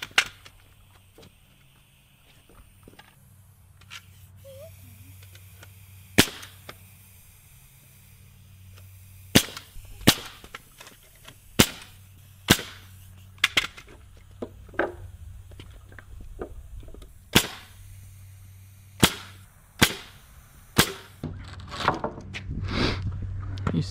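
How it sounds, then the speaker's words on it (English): A nail gun drives nails into rungs of a wooden 2x4 ladder for a deer stand, firing a series of sharp, loud, close snaps at irregular intervals over a quiet outdoor background, with brief rustling and handling between shots. "hold them in place, and shoot the nail"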